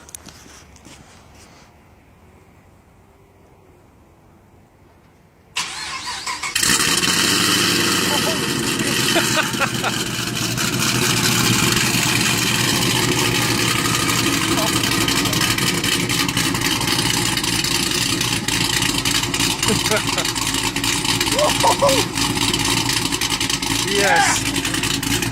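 A 2010 Chevrolet Camaro with the L99 V8, fitted with new headers and exhaust, cranks and fires after about five seconds of near silence, then settles into a loud, steady, rumbling idle, with people talking nearby.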